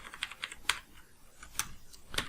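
Keys tapping on a computer keyboard in quick bursts of clicks, with a few sharper, louder strokes like the enter key being pressed, close and clear with no talk.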